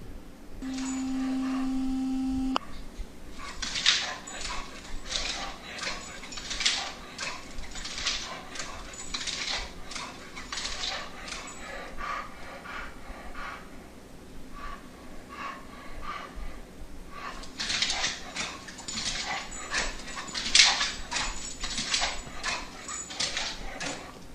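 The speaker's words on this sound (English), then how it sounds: "Mickey, of course, just keep in mind, is a mixture of a pit bull, a greyhound, and a Labrador." A pit bull, greyhound and Labrador mix dog jumping and getting excited indoors, with snorting, panting breaths and soft whimpers in irregular bursts, fairly faint and close, without any talking.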